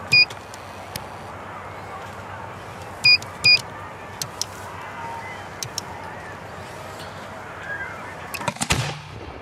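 Professional firework shells are fired in a few distant, sharp cracks and thumps over a steady outdoor background, with a louder burst of activity near the end and no talking.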